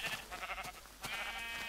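A sheep in the Minecraft game gives a short, faint bleat, a wavering cry that rises again briefly near the end.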